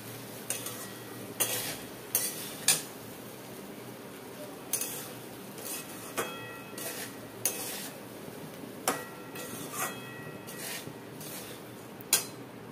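A spoon stirs broken-wheat dalia with turmeric in a metal pot, giving a series of irregular clinks and scrapes against the pot's sides, spaced a second or so apart over a quiet background.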